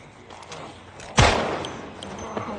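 A sharp gunshot blast in Project Zomboid rings out once, loud and close, followed by a lingering decaying tail over low game ambience, with a fainter pop near the end.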